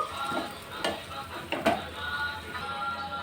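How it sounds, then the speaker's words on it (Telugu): Tomato curry mixed in a pan, with a low sizzle under a few distinct spoon scrapes and knocks against the metal. "సో మంచిగా మిక్స్ చేసుకుందాము."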